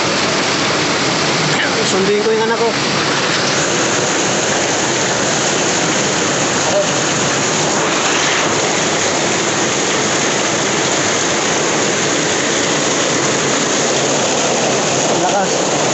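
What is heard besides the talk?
heavy rain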